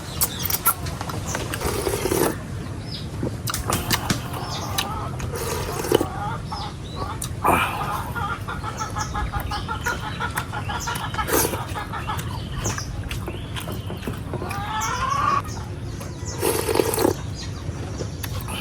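Hens cluck and chicks peep in scattered bursts over a steady outdoor background hum, moderately close, with no talking.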